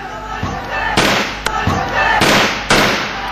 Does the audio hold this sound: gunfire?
yes